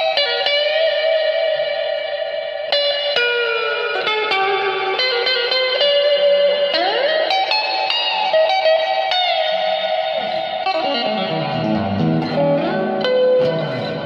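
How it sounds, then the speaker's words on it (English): Electric guitar playing through a Vox VT40X amp set to a hall reverb, with sustained chords and single notes that ring out with a long, spacious tail, moderately loud and steady with no voices. "The next is a hall reverb."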